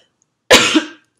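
A single sharp cough into the elbow, close and loud, one short burst that trails off quickly, alone with no talking.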